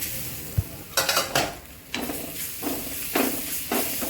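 Egg snack filling with chicken masala and chopped coriander stirred in a hot pan: a loud, close sizzle and hiss with a handful of rough scraping stirs and one light knock early on, with no voices.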